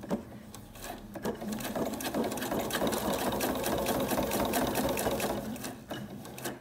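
A sewing machine stitching a zip onto a bag, running steadily at close range with a fast, even mechanical chatter, louder through the middle and easing off at the end.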